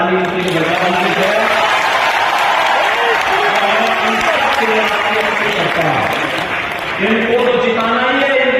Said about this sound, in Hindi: एक बार जोरदार ताली उनके लिए बजा दीजिए।